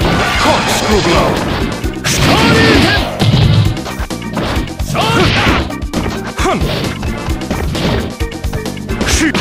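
Rapid punches landing in Street Fighter, Dudley hitting Ken with Corkscrew Blow strikes: loud smacking impacts and whooshes over dense game music and effects, with shouted character voice lines mixed in.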